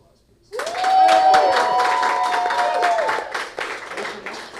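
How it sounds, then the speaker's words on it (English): An improv workshop audience breaks into a round of clapping that starts abruptly and keeps up steadily, with a voice whooping or calling out over it. "we need to give them one more round of applause, please"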